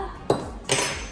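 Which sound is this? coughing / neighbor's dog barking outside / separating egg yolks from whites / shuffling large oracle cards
separating egg yolks from whites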